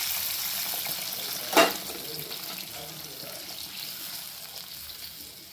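Hot water is poured into a pan for field bean upma, a brief loud splash and hiss followed by a softer, steady bubbling simmer that slowly fades.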